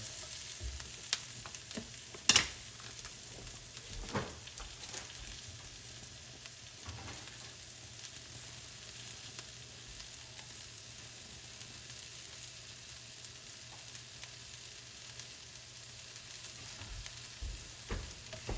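Mushrooms frying in butter in a pan while cooking beef stroganoff, a soft steady sizzle with a few brief clicks and stirring knocks, faint throughout with no talk.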